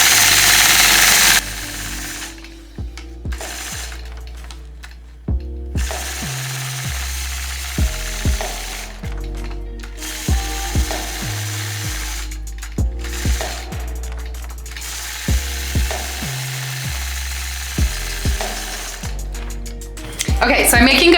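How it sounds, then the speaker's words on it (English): A longarm quilting machine stitches a circle quilt along a quilting ruler, running in repeated mechanical bursts with short pauses between them. A person talks at times over the clicking, whirring motor. "Engage the machine, apply gentle pressure,"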